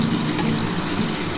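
Water poured into a pan of sizzling spice paste while cooking a Bengali chholar dal dhokar dalna, a dense, close, continuous hiss and bubbling sizzle with no voices.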